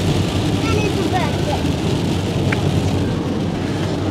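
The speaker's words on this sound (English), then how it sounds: "it's raining. It's not pouring, but it's raining pretty good" Steady rain falls outdoors as a dense, even hiss with a low rumbling undertone, with faint brief sounds from people nearby.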